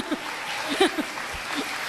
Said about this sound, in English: let's just give all nurses a round of applause